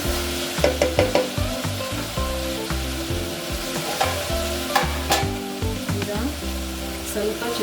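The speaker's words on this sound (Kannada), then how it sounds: "ಚೆನ್ನಾಗಿ ಫ್ರೈ ಮಾಡ್ಕೊಳ್ಳಿ ಟೊಮೊಟೊ ಎಲ್ಲ ಬೇಯಬೇಕು" Tomatoes fry for a Karnataka-style vangi bath with a constant close sizzle, while a spoon stirs and scrapes the pan in quick repeated strokes.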